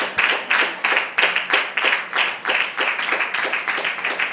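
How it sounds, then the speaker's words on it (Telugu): A church congregation clapping loudly in steady unison, rhythmic beats about twice per second that quicken slightly toward the end, close and dominant with no talk. "గట్టిగా చప్పట్లు కొట్టాలి."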